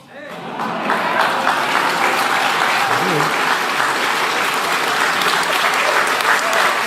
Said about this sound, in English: And she waits for the claps.